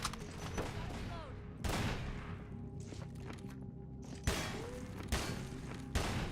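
Enemy gunfire in a retro-style video game: several sharp, loud shot bursts arrive at irregular intervals, with quieter game sounds and thuds between them.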